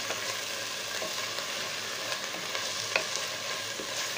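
Garlic going into a pan of frying taro and chicken curry, giving a steady low sizzle with soft stirring scrapes throughout and one brief clink near the end.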